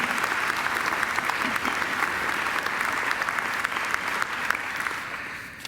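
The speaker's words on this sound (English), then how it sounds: "I think Darren deserves another great round of applause." Sustained applause from a large audience at a Macquarie University graduation ceremony, steady and dense throughout with no pauses, fading slightly toward the end.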